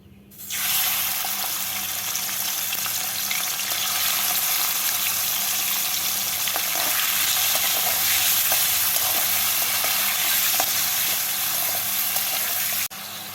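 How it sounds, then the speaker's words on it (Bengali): Shrimp fry in hot oil left over from frying potatoes, a loud steady sizzle running continuously at close range with faint stirring clicks, no one speaking. "এবার এই তেলের মধ্যেই চিংড়ি মাছগুলোকে ভেজে নিচ্ছি।"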